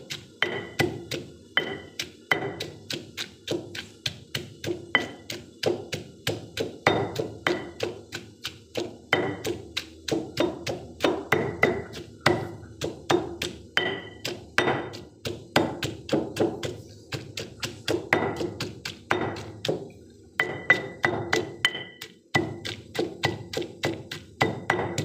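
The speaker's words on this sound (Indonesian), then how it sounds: "Kita haluskan bawang, brambang, dan" Garlic, shallots and nutmeg are pounded into a seasoning paste with a pestle, giving steady rhythmic thuds and taps, dozens of close, sharp strikes with brief pauses and no talking.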